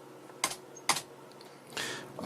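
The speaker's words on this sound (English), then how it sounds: "You can test it out by just typing LHA, enter" Keys are struck on an Amiga computer keyboard while a command is typed: two sharp, separate clacks, then a longer, slightly muffled keypress near the end, close and clear with no talking.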